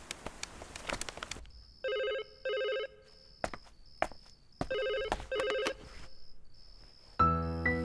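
A telephone rings during a call made from a hotel phone in a Malayalam comedy film: short repeated double rings with pauses and dial clicks, fairly close and clear, ending in a brief tonal burst.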